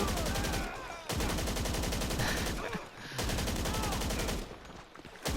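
Rapid bursts of automatic gunfire in GTA 5 Online, near and loud, sustained volleys broken by two brief pauses, with faint voices underneath.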